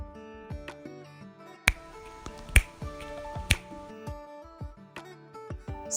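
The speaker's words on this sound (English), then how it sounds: "snap the fingers" Three sharp finger snaps ring out at irregular intervals over soft melodic background music, each a crisp, close, isolated crack.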